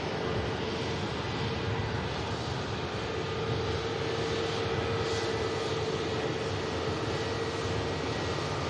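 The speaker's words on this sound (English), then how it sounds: "And next to come past us, EasyJet. Another aircraft heading down to the Canary Island of Tenerife." An EasyJet passenger jet passes at Manchester Airport, heading for Tenerife, as a steady broadband engine roar that holds at a constant moderate level throughout, with no speech over it.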